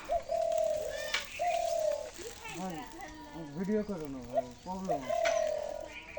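Doves give low, drawn-out coos, repeated several times close by, while people talk over and between the calls.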